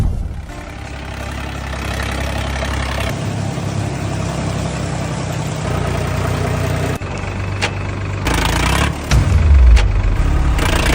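A tractor that is stuck in a ploughed field idles with a steady, close, low engine drone. Near the end the engine rises into brief revs.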